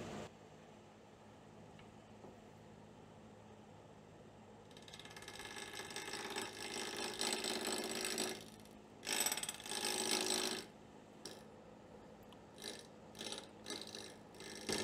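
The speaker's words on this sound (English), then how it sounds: "I'm using a really sharp Thompson bowl gouge." A wood lathe turns a bowl at about 1,000 RPM while a sharp Thompson bowl gouge cuts it, bursts of loud hissing, scraping cuts alternating with quieter spinning between passes.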